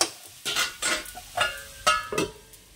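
Radish frying in a pan with green chili, coriander leaves and black cumin, a few scraping spatula strokes against the pan over a light sizzle, close and moderately loud.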